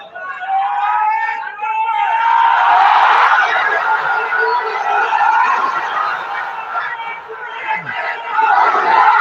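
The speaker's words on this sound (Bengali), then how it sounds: "তোমরা যে জোরে জোরে তাকবীরটা দিলা" A large crowd at an Islamic gathering loudly shouts a takbir chant in unison, a sustained, swelling roar of many voices that rises and falls across the whole stretch.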